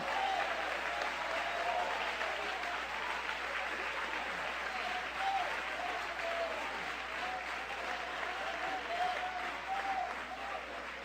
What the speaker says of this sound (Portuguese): batam palmas e glorifiquem ao Senhor